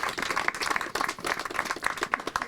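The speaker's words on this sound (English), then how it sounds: "Let's give them a round of applause" Applause from a gathered crowd at a neighborhood renovation celebration, a short burst of many hands clapping close by, brisk and uneven, with no voices over it.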